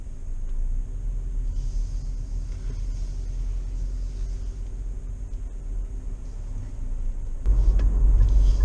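A 2021 Nissan Rogue SL SUV pulls away, heard from inside the cabin as a steady low engine and road rumble that grows louder near the end as it picks up speed.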